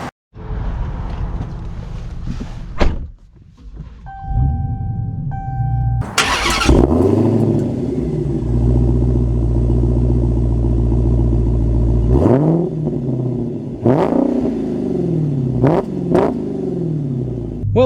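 A 2023 Dodge Challenger Hellcat Jailbreak starting up with a loud crank and bark, then settling into a deep, rumbling idle, with several sharp revs rising and falling close by.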